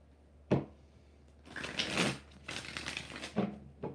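Tarot cards being shuffled by hand, faint and close, a single snap followed by two longer bursts of riffling and a couple of soft taps.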